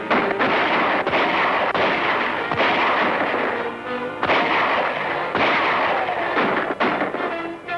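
Gunfire rings out in a shootout in the 1941 western film Bad Man of Deadwood, with loud sharp shots cracking in rapid, irregular succession over a dense, continuous roar of battle noise.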